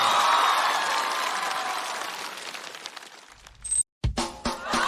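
A studio audience on a Chinese comedy talk show applauds to welcome the season's last guest, a dense clapping wash that fades, then a sharp thud and brief silence before scattered noise returns.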